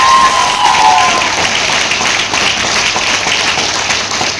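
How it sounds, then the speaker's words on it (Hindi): Audience applause at an AWPL health and wellness company program, a steady dense wash of clapping from a large crowd that holds for several seconds without pause. "तालियां हो जाए।"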